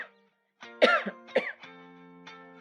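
One person gives a few harsh, wet coughs and throat clears, close by, in a short cluster of two or three bursts that tail off into a rough voiced rasp.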